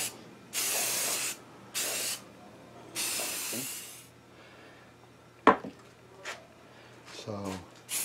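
Spray primer is applied to a metal school desk in several short, close, hissing bursts from an aerosol can, with quiet gaps and small handling knocks between them; a person talks briefly toward the end.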